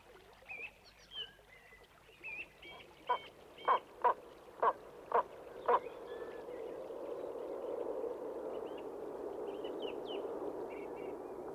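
Wild geese, including upland geese and ashy-headed geese, call in open Patagonian country in Aysén: a rhythmic run of short, evenly spaced honks and squawks, fairly distant and soft, over a low steady background.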